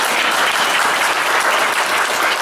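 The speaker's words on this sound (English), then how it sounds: "You can clap?" Dense, loud clapping from an audience gathered at a memorial service, sustained and even with many hands blending together, close and without any talk over it.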